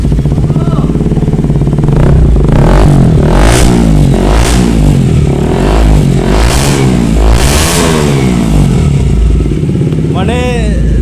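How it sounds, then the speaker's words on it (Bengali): A KTM 125cc motorcycle fitted with a full-system silencer pipe revs hard several times in a row, each loud throttle blip rising and falling close by, with a brief squeal near the end. "আমি শুধু একবার সাউন্ডটা শোনাতে চাই যে 125 সিসির বাইকের সাউন্ডটা কেমন হতে পারে"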